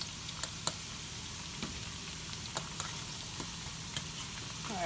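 Fish sizzles steadily in a hot frying pan while Jamaican brown stew fish is cooked, a dense, even crackle of oil with scattered small pops and ticks throughout, close up and with no talking.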